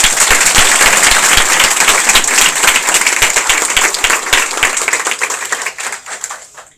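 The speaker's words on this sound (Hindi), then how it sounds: "वेलकम करो जोरदार तालियों के साथ." Loud, vigorous applause from a student audience welcomes Saket, a startup founder and alumnus, with dense clapping that stays strong before thinning and fading near the end.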